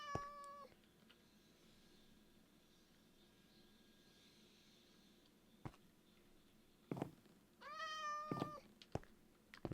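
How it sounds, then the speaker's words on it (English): Meows from a video game cat stuck at the bottom of a chasm in a mineshaft world, heard as a short harmonic call at the start and another cluster of meows later, over faint background hum with no talking. "We've got a cat that spawned some point and has fallen down into chasm. And he's stuck there now."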